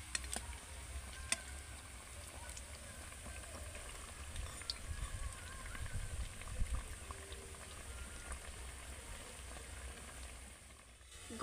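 Goja sweets fry in oil over a medium flame, giving a faint, steady bubbling sizzle with occasional small pops throughout.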